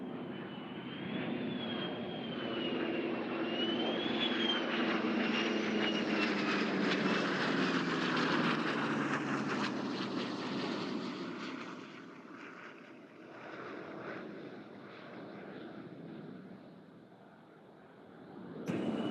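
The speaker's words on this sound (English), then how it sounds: "approaching from the front, directly in front of you, we have the three aircraft approaching for the head-on pass" Three F/A-18F Super Hornet strike fighters make a head-on pass at an air show at NAS Oceana, their loud jet roar building and sweeping overhead, then fading to a distant rumble before rising again at the end.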